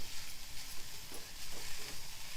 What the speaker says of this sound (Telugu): ఈ పొట్టు ఒక కప్పు వరకు వేసేసుకోండి. వేసుకొని ఇది కూడా కొంచెం వేగనివ్వాలి.